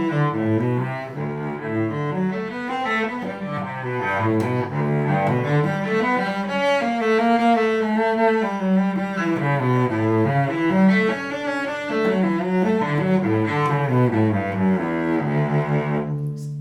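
Solo cello plays the flowing running passage near the end of the prelude from Bach's Cello Suite No. 1, with steady, continuous notes that rise and fall in close, resonant tone and no talking.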